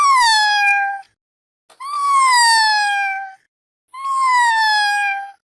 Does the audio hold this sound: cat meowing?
yes